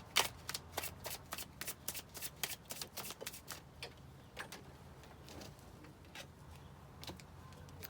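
Tarot cards being shuffled by hand, a quick run of crisp riffling flutters in close succession that thins out toward the end, heard up close with no talking.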